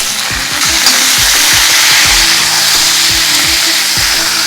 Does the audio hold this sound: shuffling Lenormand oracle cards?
no